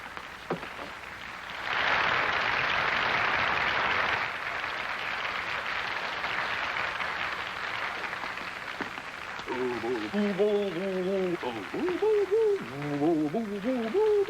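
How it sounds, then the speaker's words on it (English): Crowd applause and cheering greet a boxing challenger entering the arena before a fight, a broad roaring wash that swells and then holds, joined near the end by a loud voice speaking over it. "But here comes the challenger now. Listen to that applause."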